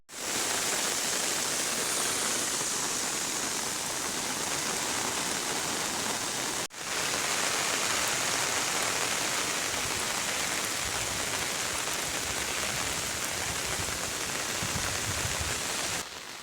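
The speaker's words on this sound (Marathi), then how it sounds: "आता लय जोरात पाऊस आलेला आहे" Heavy rain pours down in a dense, continuous roar, briefly cutting out once before resuming just as strongly.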